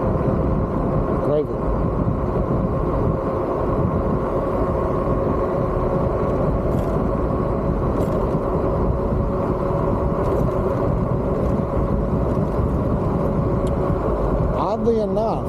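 A G-Force T7 electric bike ridden off-road at full throttle gives a steady, continuous motor whine over low wind rumble for the whole stretch, with a rider briefly speaking.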